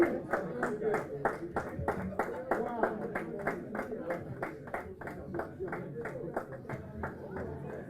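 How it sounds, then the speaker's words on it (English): Audience clapping at a university graduation ceremony in Dubai, a rhythmic series of fairly close, crisp claps in a steady beat with some crowd murmur underneath. "Let's clap for her effort, guys."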